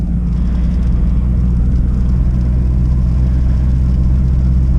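A Camaro SS 1LE on Continental DWS 06 tires crawls through snow, heard from inside the car as a steady, loud low rumble of engine and road with no speech.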